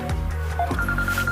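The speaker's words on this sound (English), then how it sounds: "That's Dad's phone" A mobile phone rings on a farm, a short electronic ringtone with tonal warbling notes heard over steady background noise.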